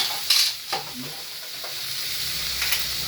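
Onion, tomato and garlic sauté in a home pan, with a soft steady sizzle under a few sharp scraping stirs near the start and another stir toward the end.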